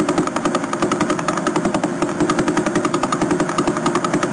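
Radio recording of a faster-spinning pulsar, its pulses merging into a loud, rapid, buzzing rattle like an idling engine or jackhammer over dense static, steady throughout with no voice.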